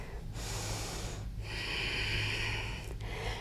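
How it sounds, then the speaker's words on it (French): Slow, steady breaths drawn through the nose while holding a yoga pose, a close airy hiss in long inhale and exhale phases separated by brief pauses. "De nouveau, 3 respirations par le nez."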